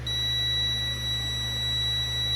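A steady, loud electronic beep drones without a break while the float of a fuel sending unit is moved on a 1988 Chevy C30 Squarebody truck.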